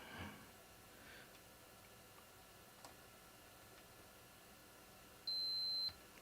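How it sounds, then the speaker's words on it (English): A single short electronic beep from a Macintosh II being restored, clear and steady near the end after faint ticks over a quiet hum. "Beep."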